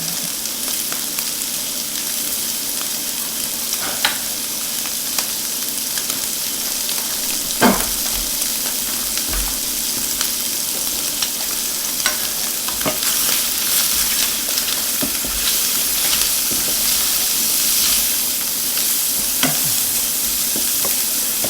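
Octopus sautéing in oil in a pan gives a steady close sizzle for about twenty seconds, broken by occasional scraping stirs and clanks of a utensil against the pan, with no talking.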